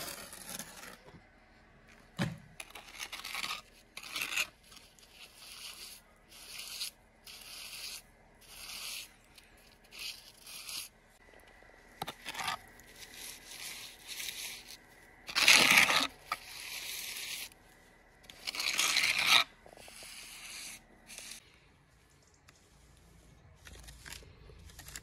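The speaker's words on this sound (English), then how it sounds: "This is a trial with a trowel." A trowel scrapes red algae off a stone wall in repeated short rasping strokes, with two louder, longer grinding bursts near the middle, no talk over it.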